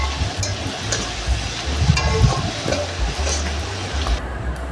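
Prawns with salt, turmeric, chili, coriander and chaat masala stirred in a hot pan, giving a steady close sizzle broken by scraping stirs, with no talking.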